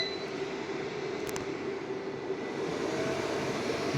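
A Gootu 12 volt solar inverter runs loudly at full speed, its cooling fan giving a steady, dense roar like a jet engine that holds without a break and sounds close.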